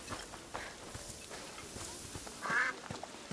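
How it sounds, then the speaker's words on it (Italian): Ducks and geese in the video game A Plague Tale: Requiem, a short nasal quack rising briefly over a quiet scene of soft clip-clop footsteps and faint background ambience. "Papere e oche in continuazione"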